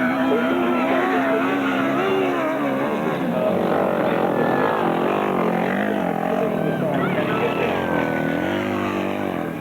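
Grasstrack racing machines on their last lap at a 1995 championship meeting roar continuously, with engines rising and falling as they pass, loud and sustained throughout.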